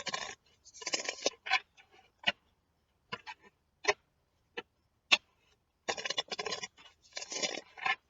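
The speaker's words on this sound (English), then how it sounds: "One more shuffle and then I cut." Tarot cards being shuffled in quick riffling bursts, with scattered crisp taps and snaps between them, close and fairly quiet.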